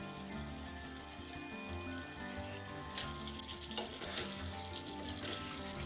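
Tinda round gourds sizzle steadily in oily tomato masala in a pan, a close, continuous crackling fry with faint stirring scrapes partway through.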